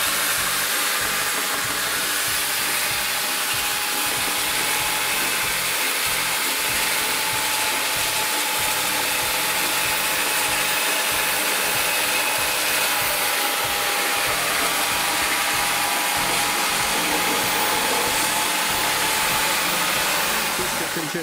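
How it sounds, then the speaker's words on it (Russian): Continuous rough whirring and scraping of light sanding on a plastic washing machine tub half, steady and close, with a faint rhythmic rasp underneath. "Это легкая шлифовка для того, чтобы силикон мог дальше скрепиться."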